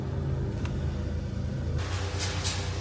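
A car is driven down into a basement parking level in Korea, its steady low engine rumble and road noise continuing throughout, with a brief change in tone near the end as it moves into the new space.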